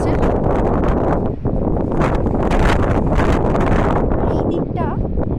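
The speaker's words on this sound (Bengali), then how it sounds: "তবে প্রচণ্ড হাওয়া চলছে এখন" Strong midday wind gusts across the mountains at Jomsom, loud and buffeting right at the microphone in a continuous roar that swells and eases slightly.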